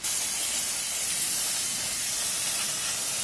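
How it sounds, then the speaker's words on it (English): Brake cleaner sprays steadily from an aerosol can onto a Toyota Corolla brake drum, a loud continuous close hiss lasting several seconds without pause. "Cleaning up is simply taking a can of brake clean cleaner."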